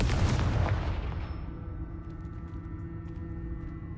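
Confringo spell explosions in the video game Hogwarts Legacy: a loud booming blast opens, then fades into a long rumbling tail with faint crackles, with no talk.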